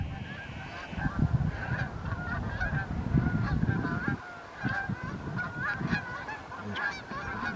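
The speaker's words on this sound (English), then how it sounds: "Usual Canada geese, one would suspect." Canada geese honk repeatedly in a noisy flock along a riverside walk, overlapping calls rising and falling with steady low background rumble.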